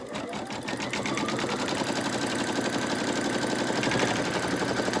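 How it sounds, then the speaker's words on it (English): A machine embroidery unit stitches around the bottom of a lace zipper pouch, giving a steady, fast mechanical whirring with rapid needle rhythm that runs loud and continuous throughout. "the next step is going to be stitching around the bottom"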